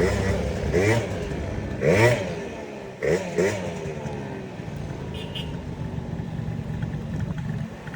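A Honda Dio scooter with a loose, worn engine runs during a diagnostic test, revving in a few short bursts over a rough idle while someone talks nearby.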